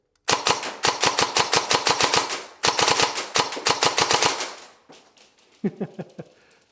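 Rapid gunfire in two fast bursts of sharp, evenly spaced reports, loud and close, followed by a few fainter pops as it trails off, with no talking.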